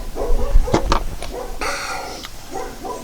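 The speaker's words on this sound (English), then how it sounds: "somebody had the audacity to walk their dog down my street. So Cooper's in there going nuts" Indoor dog barking loudly and close, reacting to another dog being walked past on the street outside: several sharp barks early on, then a quieter bark and yips trailing off.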